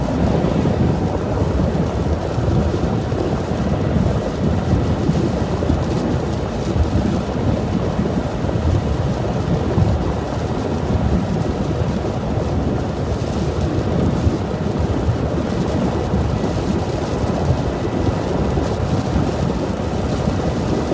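Steady heavy rain and rumbling thunderstorm noise during a December derecho in Iowa, a continuous dense roar with wind buffeting, no voices.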